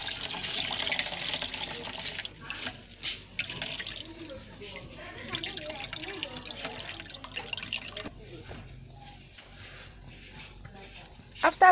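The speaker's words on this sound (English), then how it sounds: "You have to hold the edges of the cloth and tighten it so that the milk will come out very well." Homemade sugar-free tiger nut milk is wrung through a cloth, giving close, steady trickling and dripping liquid sounds while someone talks.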